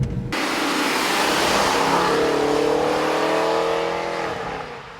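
A Chevy SS sedan's engine accelerates hard in a loud, sustained roar whose pitch climbs steadily through the rev range before easing off, heard close with no talk.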